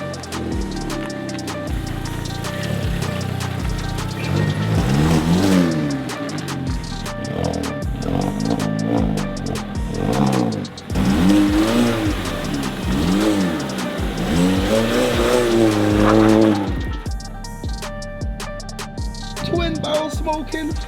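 A stage 2+ MK5 VW Golf GTI fitted with a Miltek R32 exhaust revs up and down repeatedly, rising and falling engine pitch with loud throaty bursts and crackle, recorded close and continuous throughout.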